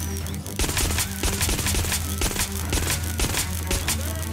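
Rapid gunfire in the video game Watch Dogs Legion, a dense, continuous stream of sharp automatic shots and bursts with a steady low rumble underneath, loud and close throughout.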